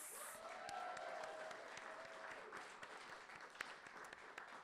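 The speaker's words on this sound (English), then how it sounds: "please give a round of applause to Destiny." Steady audience applause, many hands clapping together at a moderate distance, continuous throughout with a faint whistle-like tone early on.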